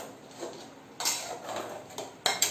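A spoon stirs prawn rice cooked in coconut milk in a pot, with a few sharp metallic scrapes and clinks against the rim over a quiet background, close and intermittent.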